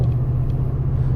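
A 2019 Toyota Tundra TRD Pro exhaust idles in a deep, steady low rumble, loud and close, with no talking over it.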